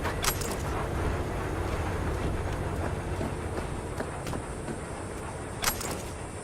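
Train departing in Cyberpunk 2077, a steady broadband rumble of rail wheels and motion running throughout with faint metallic clinks and a brief sharper knock near the end, no talk over it.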